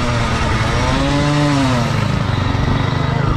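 A motorcycle engine with its fuel tank filled to overflowing idles close and loud, a steady rough rumble with a brief rise in revs in the middle.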